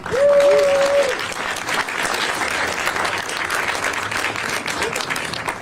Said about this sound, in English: I'd like to ask all of you to please give a round of applause to our Chief, Bill Scott